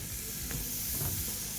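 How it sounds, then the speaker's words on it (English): Peppers and onions sautéing together in a single pan, a steady sizzle with light stirring scrapes, close and continuous with no talk. "So go ahead and get these all sauteed up, caramelized real nice."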